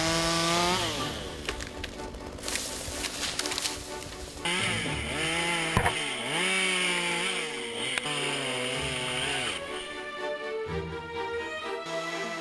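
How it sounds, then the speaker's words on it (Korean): A chainsaw cuts into a tree during tree-felling work, its engine snarling loudly and steadily up close, pitch rising and dipping as the blade bites and eases through the wood, with no speech. "나무를 자를 전기톱까지 올라가자 비로소 벌목 작업이 시작된다."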